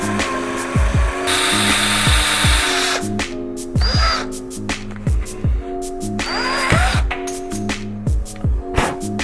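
A power drill bores holes into a Honda XR650L motorcycle in repeated short whining bursts that rev up and cut off, separated by brief pauses and handling clatter, loud and close.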